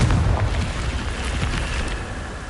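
A Confringo fire spell blasts in the Hogwarts Legacy video game, giving a loud, booming explosion that opens with a heavy low-end burst and then trails off in a rumbling decay.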